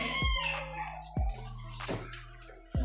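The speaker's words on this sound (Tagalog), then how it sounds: "Napakagandang manok si Rama." A rooster crows nearby with sharp, loud onsets, followed by shorter calls spaced a second or so apart.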